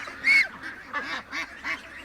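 Ducks kept indoors in a house give a series of loud, nasal quacks and honks, five or six calls spaced unevenly over a couple of seconds, close by with a quiet room behind them.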